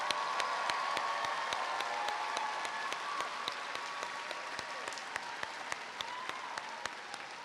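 Graduation commencement ceremony audience applauding graduating students: a steady, dense wash of clapping from a large crowd in a hall, continuous and even throughout, with some sharper nearby claps standing out and faint voices mixed in.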